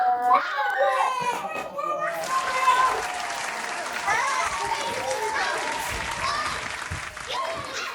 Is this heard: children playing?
yes